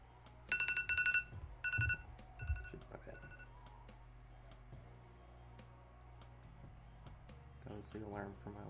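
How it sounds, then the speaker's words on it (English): A laundry machine's finish alarm sounds as a few short bursts of bright electronic beeping early on, fairly quiet and indoors, then fades to a faint background before a voice speaks briefly near the end. "That was the alarm for my laundry."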